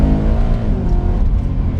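Supercharged 625 bhp BMW E92 M3 accelerating in second gear from about 3,500 RPM, a loud, close engine roar with a deep, steady drone that holds level through the short stretch, with no voices.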